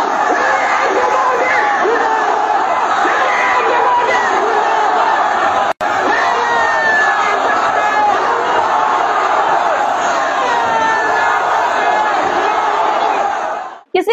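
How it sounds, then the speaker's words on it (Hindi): A large Muslim crowd of protesters fills a street in Manipur over the Waqf law, chanting slogans in a steady, loud mass roar with a brief cut midway. "सड़कों पर मुस्लिम समाज के लोग किस तरह से नारेबाजी कर रहे हैं"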